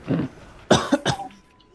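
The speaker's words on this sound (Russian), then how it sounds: "Кашляю, простите." A few harsh coughs, close by and loud, one short burst followed by two more in quick succession.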